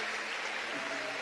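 Church congregation applauding, a dense wash of many hands clapping together at close range, steady and loud throughout the brief moment.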